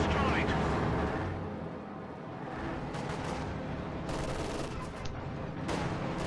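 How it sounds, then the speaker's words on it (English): Bursts of machine-gun fire from an anti-infantry strafe roll on in a WWII strategy video game, with dense continuous gunfire and distant explosive booms filling the mix, while a commentator talks over it. "Anti-infantry strafe pins down all supporting squads."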